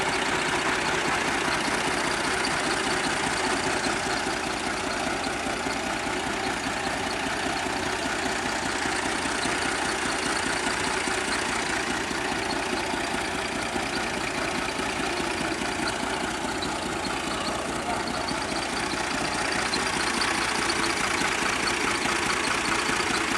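A tractor engine idles steadily while pulling on a shisham tree, a loud, close, continuous rumble that holds unchanged throughout.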